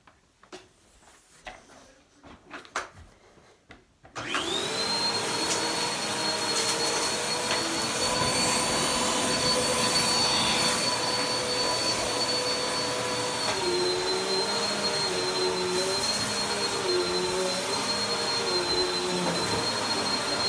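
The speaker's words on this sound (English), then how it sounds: "She's yet to use this vacuum." A household vacuum cleaner starts up after a few seconds of quiet handling noise, then runs with a steady loud whine and drone, pitch wavering slightly as it is pushed around a room.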